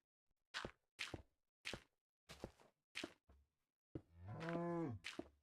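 Minecraft cow lets out a single drawn-out moo after a run of short, sharp block-placing thunks, all close and clean with no speech.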